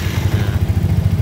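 A car engine starts with the starter and settles into a fast, chugging idle close by, its rhythmic pulsing loud and continuous throughout the short stretch.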